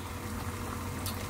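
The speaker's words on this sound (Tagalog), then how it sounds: "kumukulo na yung aking pinainit na tubig" Water bubbles and churns at a rolling boil close by, a steady dense hiss with a low rumble.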